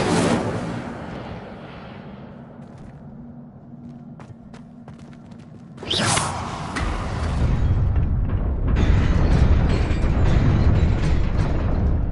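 Hogwarts Legacy Incendio fire spell: after a quiet stretch of faint clicks, a sudden loud whoosh bursts out and swells into a sustained roaring rush of flame that stays strong to the end.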